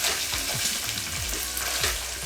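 Minced mutton keema fries in oil in a pan, a dense, loud sizzle running throughout with repeated soft scrapes of a stirring spoon, close up, no speech.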